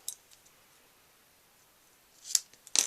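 Scissors trim a paper card for a fun fold sympathy card, a couple of short crisp snips near the end after a mostly quiet stretch, close and fairly faint.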